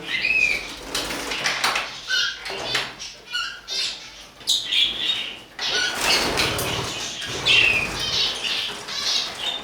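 Pet budgies flapping and fluttering in a cage in bursts, with rustling, scraping and occasional squawks, close and fairly loud, no talking.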